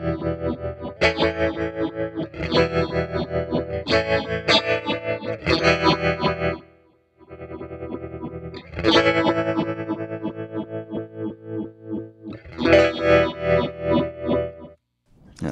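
Electric guitar chords run through a Chase Bliss Audio Wombtone analog phaser, swirling with a pulsing tremolo-like volume throb; the rhythmic wavering strums pause briefly midway, then resume with no one speaking.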